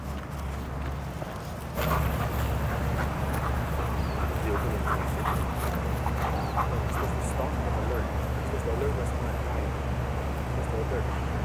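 A K-9 police dog on duty during a suspect apprehension drill, with dense, continuous barking, whimpering and yipping close by, mixed with steady background noise and voices.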